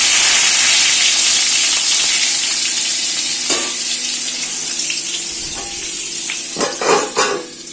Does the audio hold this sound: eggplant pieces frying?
yes